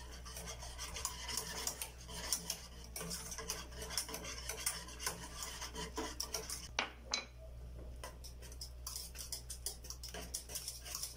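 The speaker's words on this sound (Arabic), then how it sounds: "نبدا في التحريك. باش يعقد مزيان" Caramel for mille-feuille being stirred in a pot, with quiet rhythmic scraping and light clinks of utensil against pan repeating steadily up close.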